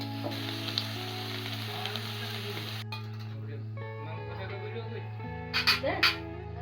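Meat sizzles and fries in a pan, a steady hiss with an electrical hum, then a few clinks and scrapes of a utensil near the end.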